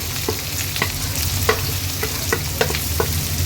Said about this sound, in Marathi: आता या हिरव्या मिरच्या आणि बारीक चिरलेले दोन कांदे आहेत ते ऍड करूया